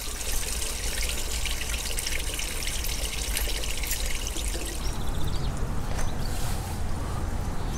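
Wastewater pours and gurgles steadily out of a motorhome's tank drain nearby, a continuous splashing flow with no voices.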